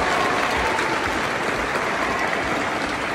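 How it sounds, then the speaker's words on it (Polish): Young people at a meeting with speedway champion Tomasz Gollob in Wieluń give a big, steady round of applause, a dense wash of clapping that holds at an even level for the whole stretch without voices. "Proszę dać ogromne brawa. Wielkie brawa"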